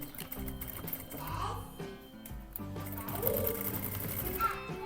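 A sewing machine stitches the seam of a fabric toothbrush holder, its motor humming close and steady with a brief dip in the middle, carrying on throughout.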